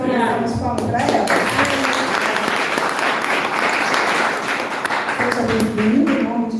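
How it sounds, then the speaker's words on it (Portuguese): Church congregation clapping to welcome a new member at a worship service, a loud, sustained round of applause filling the room, with voices calling out and talking over it. "Vamos dar uma palmas para ela"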